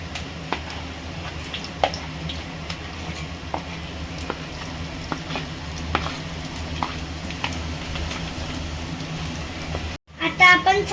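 Pasta ingredients fry and sizzle in a pan during stirring, a steady close crackle broken by scattered spoon scrapes, ending with a brief pause and a few louder clatters.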